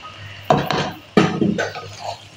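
A spoon scrapes and clinks against a pan while stirring ketchup into chicken macaroni, with two sharp knocks followed by softer scraping and mixing sounds, close and moderately loud, no talking.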